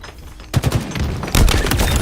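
Rocket launcher rounds firing in a video game, a burst of loud explosive blasts that starts abruptly after a quiet moment and swells louder partway through, with dense rumbling impacts continuing to the end.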